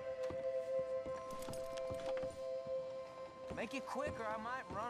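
Horse hooves clip-clopping in a Red Dead Redemption II game scene, soft rhythmic footfalls beneath game music and people talking, with a horse snort or whinny near the end.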